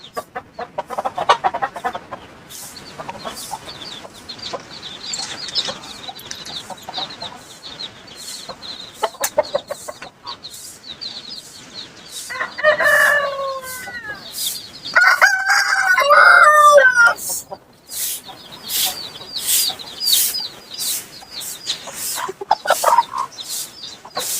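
Several roosters crow in turn, drawn-out harmonic calls rising and falling, with a steady rapid clicking or ticking underneath and no talk.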